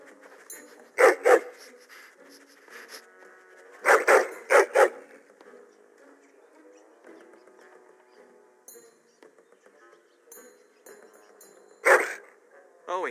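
A hound in Dragon Age: Origins gives several loud, sharp barks in short bursts, scattered across the scene between stretches of quieter game sound and talk.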